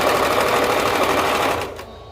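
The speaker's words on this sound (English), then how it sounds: "I sew over my needles" A sewing machine stitches elastic in a steady, loud, continuous whir that drops off near the end.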